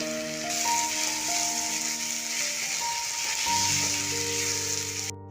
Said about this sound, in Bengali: এখন এর মধ্যে দিয়ে দিচ্ছি কুচিয়ে রাখা টমেটো।